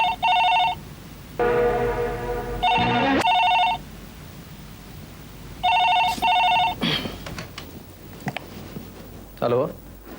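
A telephone rings in repeated electronic trills, loud and close, several rings spaced apart, with a man's speech and other noises between and over the later rings.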